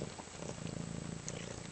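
A foster kitten purrs close up, a soft continuous rhythmic rumble with no voices over it.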